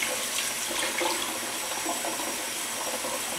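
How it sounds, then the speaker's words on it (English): Tap water running as mushrooms are rinsed in a kitchen, a steady close splashing stream for a few seconds. "Not washing the inside, but at least rinsing it with water"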